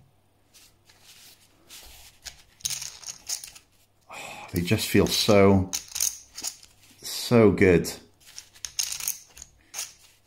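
Rounders clay poker chips clack and riffle together in quick bursts of crisp clicking, with a person speaking over part of the shuffling.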